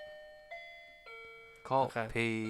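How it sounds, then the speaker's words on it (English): A doorbell chimes in a sequence of clear, ringing tones, each one sustaining before the next. The last chimes come in louder and fuller. "But if they ring on the doorbell"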